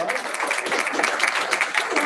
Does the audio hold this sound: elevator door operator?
no